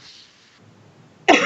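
One sharp, loud cough bursts out near the end, following a short stretch of faint background hiss.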